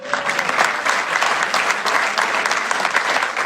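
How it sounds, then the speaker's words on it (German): An audience claps in dense, steady applause at an event, loud and close, sustained throughout with no break. "Klatschen."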